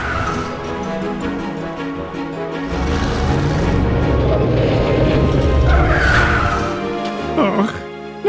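A limousine in the DuckTales Remastered video game speeds off, its tires squealing and skidding over a loud revving engine that builds and then fades, with voices speaking over part of it.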